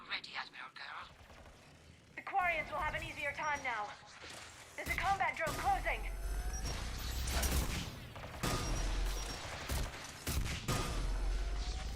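In Mass Effect, gunfire aimed at incoming Geth rockets: bursts of sharp shots and thudding impacts mixed with mechanical game sounds and explosions, with voices talking in between.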